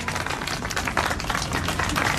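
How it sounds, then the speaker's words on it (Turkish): An audience at a June 2021 visit to a tent in Amasya bursts into dense, continuous clapping, loud and close from start to finish. "Evet kocaman alkışlar istiyorum."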